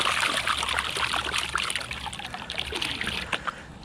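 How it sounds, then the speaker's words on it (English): Water sloshing and splashing in a gold pan during prospecting for glacial gold in Wisconsin, trickling and dribbling in close, uneven bursts. "you'll see it's kind of splashing"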